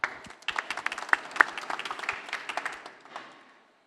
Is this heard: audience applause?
yes